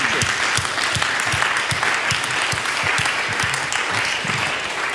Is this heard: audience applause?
yes